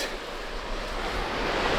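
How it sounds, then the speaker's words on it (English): A steady, broadband rush of falling water from a waterfall hidden in a Hokkaido forest, close and loud with no other sounds over it. "I have this waterfall to myself"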